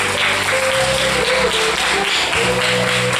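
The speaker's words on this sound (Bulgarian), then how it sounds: "Аплодисменти за вокално студио Little Monkeys." Audience applause at a Christmas concert for the Little Monkeys children's vocal studio, a dense steady wash of clapping that fills the whole moment at even loudness, with a faint sustained musical tone ringing underneath.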